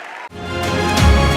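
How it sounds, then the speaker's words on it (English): A conference crowd in Toronto bursts into applause after a short pause, swelling into dense, sustained clapping that grows louder and fills the hall. "Thank you for the warm applause"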